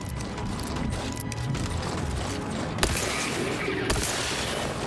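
A pistol fires in The Outer Worlds 2, with two sharp, separate reports cutting through a dense, rumbling wash of game sound.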